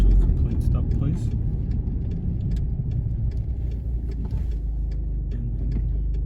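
A manual car's engine rumbles steadily as a learner driver brings it to a stop, with a low drone throughout, some clicks and bumps, and people talking over it.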